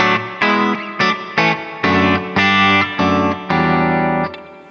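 An electric guitar runs through overdrive and reverb via a PX8 pedal switcher, playing eight loud, distorted strummed chords in a steady rhythm, the last one left ringing with a reverberant tail.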